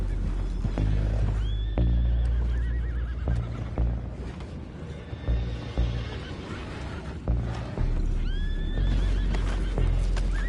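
Horses whinny loudly several times over a heavy rumbling, bustling Red Dead Redemption 2 soundscape with hoofbeats and clatter.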